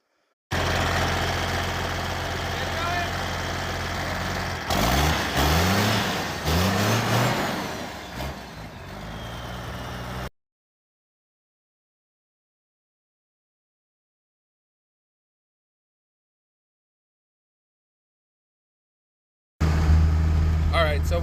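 A semi-turbo fitted to a pickup truck engine, running loud and close as a steady roar that rises and falls, with the engine note sweeping during revving. The sound cuts out into a long silence and briefly returns at the end.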